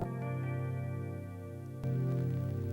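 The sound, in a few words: clean-sounding guitar bar chord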